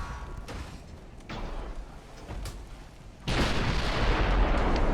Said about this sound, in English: Yep, that torpedo hit the Lübeck and sunk it.